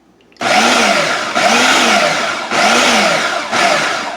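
A kitchen blender pulses gluten-free buttermilk biscuit dough in four short, loud bursts, each whirring for about a second with brief pauses between, no talking over it.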